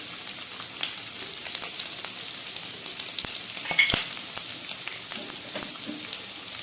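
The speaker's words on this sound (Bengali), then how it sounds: "আর গ্যাস লো ফ্লেমে এইভাবে ফ্রাই করতে থাকবেন।" Chopped garlic and onion fry gently over a low gas flame for pasta, a soft continuous sizzle with crackling pops and brief stirring scrapes, close and quiet.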